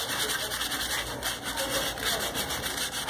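Sandpaper rubbing over an old wooden chair frame being prepared for a new Indian straw seat: steady, rhythmic back-and-forth scraping strokes, close and fairly loud, with no one talking.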